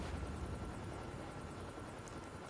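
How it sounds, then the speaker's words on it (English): Faint, continuous whirring drone of a stealth chopper passing overhead in the Call of Duty Mobile game, steady and distant with no voices. "Friendly stealth chopper inbound."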